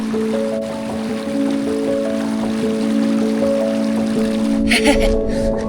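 Water splashing outdoors on a chilly day in the wild as someone washes up, a steady watery rush under a faint tonal hum, with a burst of closer, louder splashes near the end.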